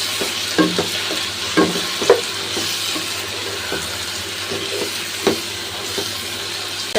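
Potatoes, onion and dal frying for khichuri, with steady sizzling broken by a few sharp stirring scrapes and clinks of a spoon against the pan, close and moderately loud, no voices.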